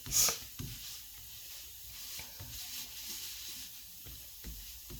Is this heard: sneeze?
no